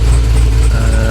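A freshly built car engine runs loud and close on a dyno, a steady, heavy rumble that holds throughout without any voices.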